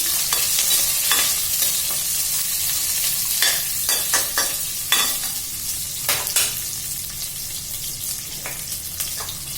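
Onions and green chillies fry steadily in a pan for a jackfruit biryani, a loud continuous sizzle broken by scraping stirs every second or so, close up and with no one talking.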